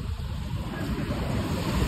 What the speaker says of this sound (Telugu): ఇక్కడ చూసుకుంటే అలలు వస్తున్నాయి అమ్మ